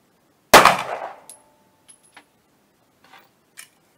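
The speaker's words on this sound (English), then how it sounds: "we're shooting 124 grain with Accurate number 7" A single loud 9mm pistol shot, 124-grain handloads with Accurate No.7 powder, cracks close by and rings off briefly, followed by faint clicks and small handling noises.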